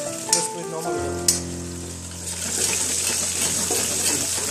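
Water pours into a hot kadhai while paneer is cooked Bengali home style, starting as a steady tone that gives way to a loud spreading sizzle and hiss, with a couple of sharp clinks early on.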